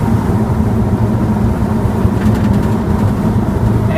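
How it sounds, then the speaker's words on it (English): Steady wind roar and low rumble inside the cab of an old truck with leaky quarter lights while driving, loud and constant, with a faint rattling flutter partway through and no talk. "So it's got a little bit of wind noise."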